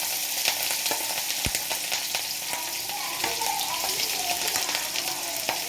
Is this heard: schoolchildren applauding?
no